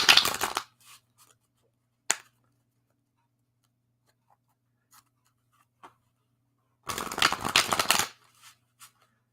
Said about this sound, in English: let's throw some cards down for that.